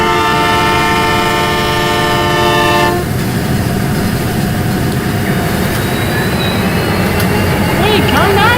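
Brazilian SC-78 locomotive in the Rolling Line train game, a sustained multi-tone horn blast over the rumbling engine, then the diesel keeps running with rail noise, loud and close.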